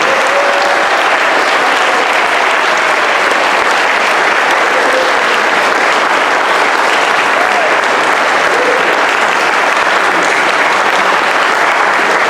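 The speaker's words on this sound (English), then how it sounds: "How about a nice round of applause for our accompanist, Darrell and Dylan." Loud, sustained applause fills a jazz piano showcase as the audience claps for the accompanists, a dense, steady roar of hands lasting well over ten seconds, with faint voices blended in.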